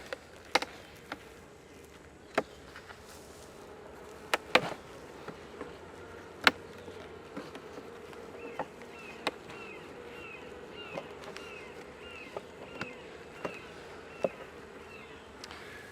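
Honeybees humming around hive frames during a backyard honey collection, a steady low buzz running throughout, punctuated by sharp clicks and knocks from handling the frames nearby.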